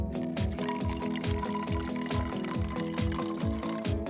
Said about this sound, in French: remplis-le avec du cola bleu